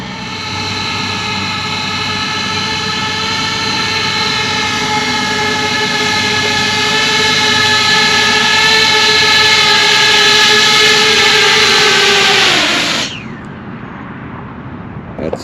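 Loud, steady multi-tone whine of a commercial drone's propellers in flight, holding pitch for about twelve seconds, then sliding downward and dropping sharply as the rotors slow.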